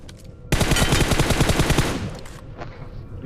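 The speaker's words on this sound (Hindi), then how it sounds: "तो मैं उसे 2-4 फायर देता हूँ।" Sustained automatic gunfire in the BGMI battle royale game, a loud rapid burst of shots lasting a couple of seconds before tapering off, with no talk over it.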